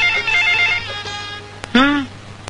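A telephone rings indoors in a home, a short bright trill heard close by, with a voice nearby around the ring.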